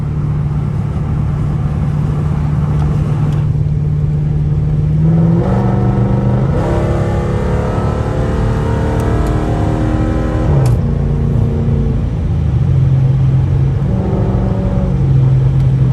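A Dodge Charger badged as an SRT roars on a late-night highway drive, its engine revving up and dropping through gear changes in a loud, continuous rumble with no talking.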